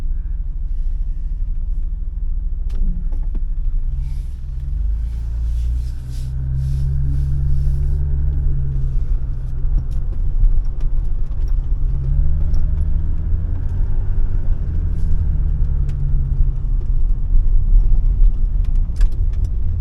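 A 1985 BMW 635 CSI with electrical faults drives along a road, heard from inside the cabin. A low engine rumble runs the whole time and grows louder as it accelerates, with faint clicks and rattles and no voices.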